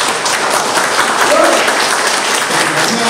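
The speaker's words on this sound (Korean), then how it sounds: "소체 자랑으로 우리 다시 한번 박수 한번 부탁드리겠습니다." Audience applause fills a debate forum, a steady dense clapping from a crowd that continues loud and unbroken throughout.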